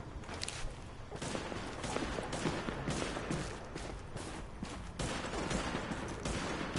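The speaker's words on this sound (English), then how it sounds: "I hear somebody shooting" Sustained gunfire from a firefight in the video game The Division, dense overlapping bursts of shots rattling continuously at steady loudness with no talk.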